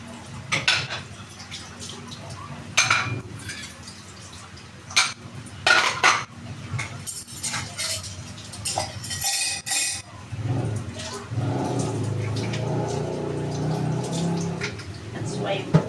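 Dishes being washed in a kitchen sink, with pots, pans and cutlery clinking and clattering irregularly and close, then running water streaming; a person talks in between.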